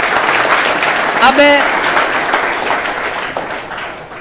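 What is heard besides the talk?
loud audience applause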